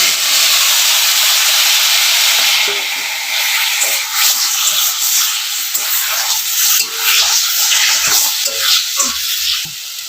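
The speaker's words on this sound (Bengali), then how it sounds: "আমি এখন টমেটো দিয়ে দিই।" Tomatoes drop into hot oil seasoned with panch phoron, dried red chilli and bay leaf, setting off a loud, steady sizzle and hiss that settles into continuous frying crackle with faint stirring scrapes.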